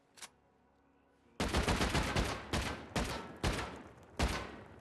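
An AK rifle in Rust firing at a door, loud rapid bursts of automatic fire in several separate strings after a single early shot and a short pause, close and harsh.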